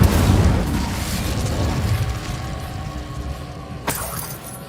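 A fire spell cast in Hogwarts Legacy bursts with a loud, roaring blast that slowly fades, followed by a sharp crack near the end, with no voices.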